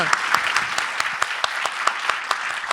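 An audience claps for film producers Frederick Wiseman and Marie Lecoq at a screening event, a steady patter of many hands with a few sharper individual claps standing out, continuous and fairly close.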